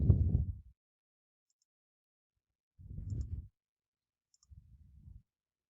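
Three soft, dull bursts of computer mouse clicking while a file is downloaded and opened, spaced a few seconds apart in near silence, each a brief muffled clatter close to the microphone.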